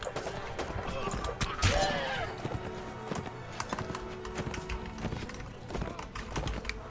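Horse hooves clip-clop in quick, steady beats during a Mount & Blade: Warband battle in the Blackroot Vale, with a brief whinny, game clatter and someone talking over it.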